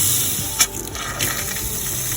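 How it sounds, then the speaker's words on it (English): Water running from a kitchen tap in a 2022 Bailey Pegasus SE Grande Brindisi caravan while air is bled from the pipes, a steady hiss with a couple of sputtering spurts, no talking. "you want to bleed the water through on the kitchen tap"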